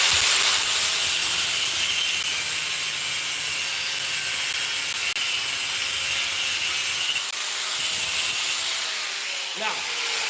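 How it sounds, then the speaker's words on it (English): Angle grinder trimming down a bowie knife handle, a loud steady whining hiss that holds nearly unbroken for about ten seconds before easing off near the end. "using my handy dandy angle grinder, I'm going to trim this down just a little bit"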